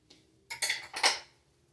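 Garlic knocked off a fork into a skillet for a cheesy chorizo dish: three quick metallic clinks and scrapes close by, then quiet.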